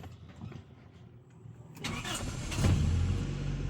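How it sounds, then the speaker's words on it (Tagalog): A Toyota Corolla AE101 with a 4A-FE engine starts on one short crank and settles into a steady idle that firms up and grows louder, heard close by. "Ayan, one click start naman siya."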